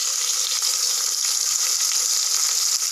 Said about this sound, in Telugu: ఇప్పుడు వేస్తున్నాను కరివేపాకు.